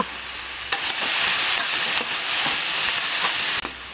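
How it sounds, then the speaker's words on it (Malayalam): Salt and turmeric stirred into a curry in a pan: a steady hot sizzle under repeated scraping strokes of a spoon, loud and close, with a sharp clatter near the start and end. "ഇതൊക്കെ നന്നായിട്ടൊന്ന് ഇളക്കി യോജിപ്പിക്കാം"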